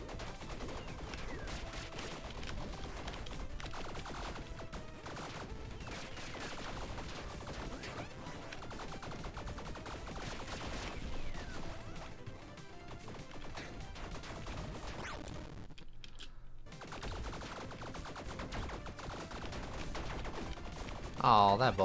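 Dense gunfire and crashing impacts from a shooter video game keep up a loud, continuous barrage for the whole stretch, with a brief lull near the middle and a sharp burst right at the end.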